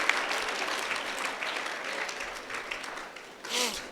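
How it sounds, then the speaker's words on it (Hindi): A church congregation claps together during a fasting and prayer service, a dense, steady wash of applause that carries on throughout and swells briefly just before the end. "हम ताली बजाकर यीशु का धन्यवाद करेंगे।"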